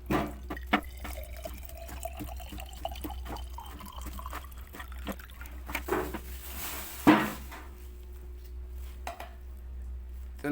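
Thinner poured into candy red paint, a liquid trickle with scattered drips and small clinks, fairly close and steady, no talking.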